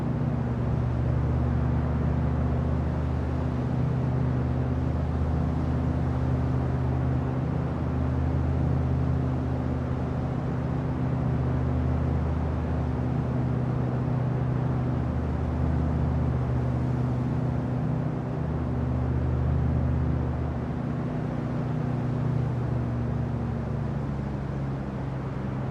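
A light aircraft's piston engine under added throttle in the Microsoft Flight simulator drones steadily and loudly, a close, unbroken hum with no talk over it.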